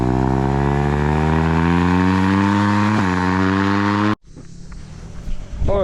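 A motorbike engine roars loudly and close by, revving steadily with rising pitch for about four seconds, then cuts off abruptly, leaving faint wind and rustling behind.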